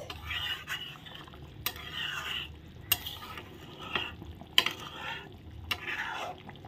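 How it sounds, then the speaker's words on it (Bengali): Fish heads being stirred in a cooking pan give a soft scraping stir with faint sizzling beneath, repeated in several strokes over a few seconds, quiet and close. "এখন মাথাগুলো দেওয়ার পর ভালো করে নেড়ে দিচ্ছি।"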